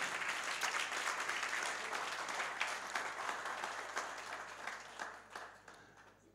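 A church congregation claps in sustained applause at moderate distance, a continuous patter of many hands that holds steady and then thins out toward the end, with no voices.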